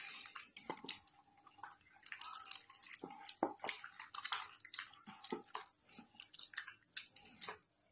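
Peeled ripe bananas are squeezed and mashed by hand for a sweet banana pitha, giving faint, close, irregular wet squishing and sticky smacking sounds in quick bursts without any voices.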